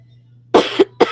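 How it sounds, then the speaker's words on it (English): Two or three sharp coughs in quick succession, close and fairly loud, over a steady low electrical hum with no talking. "I'm trying to quit coughing."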